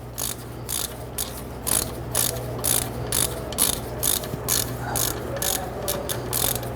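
A ratchet wrench tightens bolts on the rear wheel bearing of a 1999-2004 Jeep Grand Cherokee, giving repeated bursts of quick, close pawl clicks in an uneven rhythm over a low steady hum.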